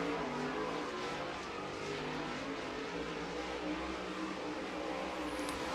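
A MARS late model race car engine runs steadily during qualifying at I-55 Federated Auto Parts Raceway Park, a continuous loud drone with no clear pass-by peak and no voices over it.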